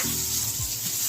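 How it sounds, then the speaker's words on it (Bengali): Brinjal (eggplant) slices sizzle steadily in hot oil in a pan, a close, continuous frying hiss with a soft stir or utensil movement partway through, and no one speaking. "দেখুন 5টা বেগুন ভেজে নিয়েছি"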